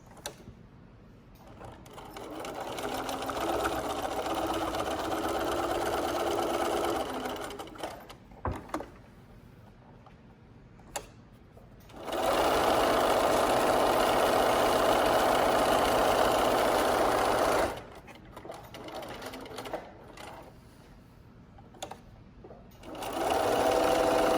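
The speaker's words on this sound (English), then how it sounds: "I'm gonna sew around the edges." A sewing machine stitches around the edges of a homemade fabric face mask, running in long steady buzzing passes close by, with pauses between stitching runs and no talking.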